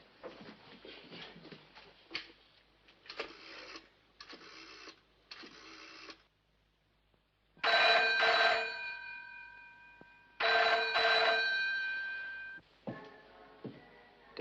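An old telephone rings at the other end of the line, heard through the receiver as repeated paired bursts of a harsh bell with pauses between, fairly close and with no talk over it.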